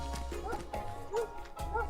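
Dogs bark in an Animal Rescue Friends story, a few short yaps spaced through the moment with rhythmic knocking beneath, close and moderately loud.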